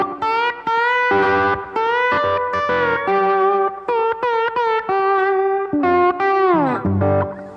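Slide guitar plays Delta blues licks, with sustained, gliding notes and smooth pitch slides through microtones, phrases separated by brief breaks, loud and close with no talking.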